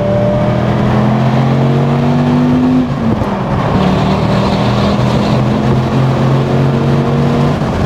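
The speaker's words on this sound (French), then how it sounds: "La réponse du moteur, regardez ça, hop, hop, en troisième, boum" A Dodge Viper SRT-10's big engine revs hard under acceleration, a loud, deep drone climbing in pitch, dipping briefly at a gear change near the midpoint, then pulling and rising again, close and continuous.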